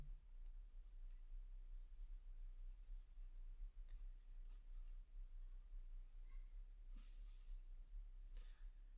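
Quiet writing during a chemistry lesson on naming organic compounds: faint scratchy strokes and a few light taps over a low steady hum, with no talking.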